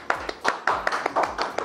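Studio audience on a Pakistani morning TV show clapping to welcome a guest, heard as a short run of uneven, bright hand claps that sound fairly sparse, as if from a small group, with no talk over them.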